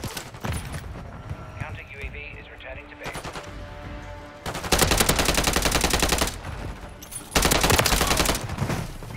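Heavy automatic gunfire from a military video game arrives in long, loud sustained bursts with short gaps, plus a voice and radio-style chatter in the quieter moments.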